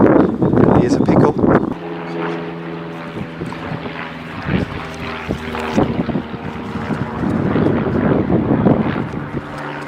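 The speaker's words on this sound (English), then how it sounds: "There's a heck of a lot of planes going past." Airplanes flying past near Moorabbin Airport, a broad roaring drone that swells and fades across the clip with steady rumbling beneath, heard alone without talk.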